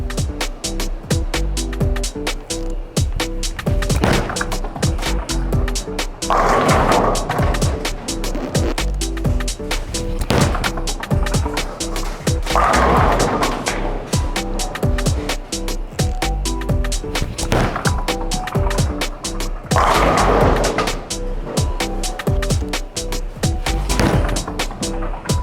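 Bowling balls thrown on a titanium 44-foot oil pattern, a loud continuous roar of the ball rolling down the wooden lane, with several crashing pin impacts recurring over the course of the sequence.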